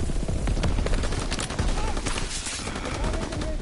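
Rapid automatic gunfire rattles in Call of Duty: World War II, loud and dense bursts of shots running almost without a break, with a player's voice faintly under the shooting.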